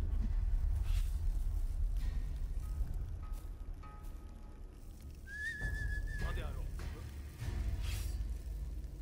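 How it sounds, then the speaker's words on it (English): A single short whistle from the player in the stealth game Aragami: Nightfall, clear and mid-pitched, cutting briefly through a low, rumbling ambient backdrop with faint voices around it. "Well, I just made him turn around with the whistle."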